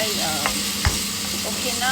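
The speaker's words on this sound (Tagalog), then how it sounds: "Kahit kunti lang yung karne, basta haluan natin ng kunting karne, yung ating gulay" Beef, broccoli and mushrooms stir-fry in a hot pan, giving a steady close sizzle broken by a few sharp clinks and scrapes of stirring.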